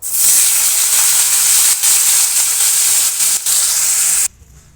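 Loud, steady sizzling and hissing of vegetables frying in hot oil in a karahi, with a couple of brief dips, cutting off abruptly near the end.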